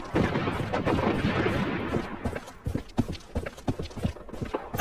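Dense gunfire and explosive missile bombardment in the online shooter Project Blood Strike, rapid overlapping shots and booms for about two seconds, then sparser individual bursts and impacts close by.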